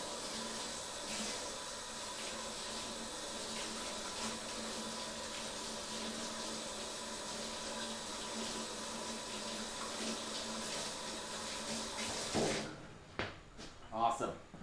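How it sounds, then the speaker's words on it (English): Gloved hands rinsed under a running tap in a kitchen, a continuous close rush of water for about twelve seconds, then the flow stops and a few bumps and clatters follow. "Rinse our gloves off."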